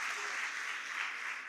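Applause during a Portuguese-language church consecration service, a dense, steady wash of clapping from the congregation filling the space, loud and continuous with no pauses.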